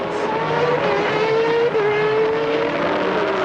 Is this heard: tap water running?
no